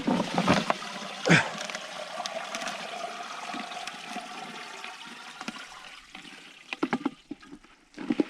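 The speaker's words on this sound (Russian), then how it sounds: "Так, вода пошла." Water gurgling and trickling into a bottle set on thin river ice, a continuous splashing flow with a few sharper glugs and bursts toward the end.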